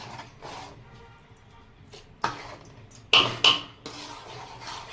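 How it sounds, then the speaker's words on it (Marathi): A ladle stirs a sabudana and potato papad mixture in a large cooking pot, producing scattered scrapes and sharp metallic clanks against the pot's sides. Two louder knocks stand out over a quiet kitchen background. "चांगलं हलवून घ्यायचं मोठं पातेलं मी का ठेवलं"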